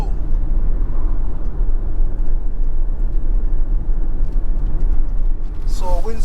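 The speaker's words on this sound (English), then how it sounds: "So I'm driving on Winston Jones Highway." A car cruising along Winston Jones Highway (A2) near Mandeville in Manchester, Jamaica, with a steady, loud rumble of engine and road noise heard from inside throughout, and a brief squeak near the end.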